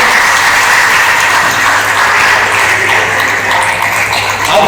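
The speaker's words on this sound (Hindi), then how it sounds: "आप दोबारा तालियां बजा के ये बता रहे हो कि हमें समझ में आया" A second round of audience applause at a talk on diet and digestive health, dense and loud, a constant hiss-like rush of many hands clapping at once with no pauses.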